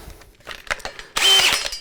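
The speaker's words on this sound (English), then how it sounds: "you can use a regular drill for this with a small mixer" A regular power drill fitted with a small mixer paddle stirs a 10-pound batch of tile grout, starting with a few rough scrapes and then running in a loud, sustained whir.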